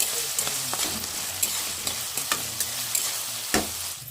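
Ginger garlic paste and tomato fry for tomato rice, a soft sizzle under repeated spatula scrapes and taps against the pan, close and fairly quiet.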